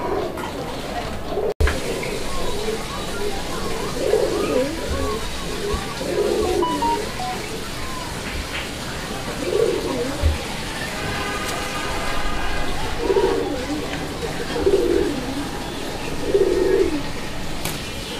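Raj Golla and Madrasi Golla pigeons coo in a loft, with soft, repeated low cooing phrases spaced every few seconds under background noise. A sharp knock sounds early, and people talk quietly at times.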